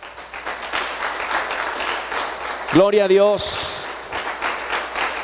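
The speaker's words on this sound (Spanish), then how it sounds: "Den un aplauso al Señor." Steady church congregation applause fills the whole stretch while a voice briefly calls out over it near the middle.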